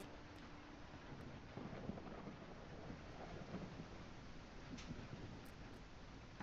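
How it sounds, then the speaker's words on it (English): Rain patters on the glass of a greenhouse in the game Call of the Elder Gods, a faint, even hiss that runs throughout with occasional soft taps and no voices. "I really love that texture of the rain falling on the glass."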